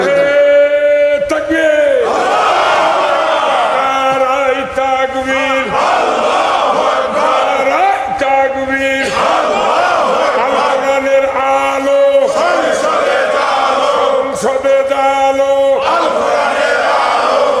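A large crowd at a Bangladeshi village religious gathering shouts a takbir chant in loud, repeated call-and-response bursts, a leading voice alternating with massed roaring replies over about eighteen seconds.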